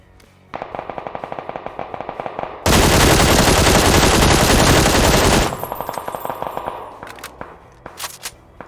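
Assault rifle fire in PUBG during a recoil test: a rapid automatic burst of evenly spaced shots, then a dense, loud sustained stretch of fire, returning to quicker separate bursts and a few trailing single shots.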